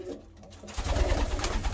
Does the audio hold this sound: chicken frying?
no